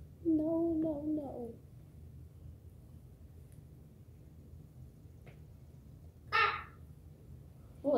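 A bird call, likely a crow's caw, with a harsh, drawn-out call near the start and a couple of brief sharp calls later, against a low background hum.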